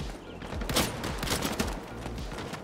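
Rapid gunfire from bots in the free-to-play PC shooter Battalion Legacy, dense continuous shots with sharper bursts standing out, loud and close, no talking.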